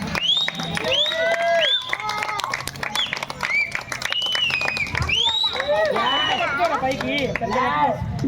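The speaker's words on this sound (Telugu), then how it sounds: "గట్టిగా చప్పట్లు కొట్టాలా" At a Mr Sankranti Star 2025 prize event, the audience claps and cheers for the winner, with a dense patter of claps under loud overlapping shouts and whoops.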